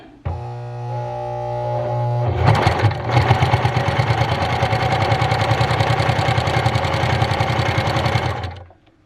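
A Janome HD 1000 heavy-duty sewing machine top-stitching through thick folded leather, starting with a motor whir and then a steady, loud, rapid needle chatter for about six seconds before stopping.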